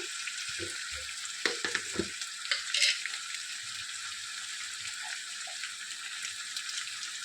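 Steady sizzling of ginger with turmeric and other ground spices frying in a pan, with a few soft clinks and stirring taps near the start.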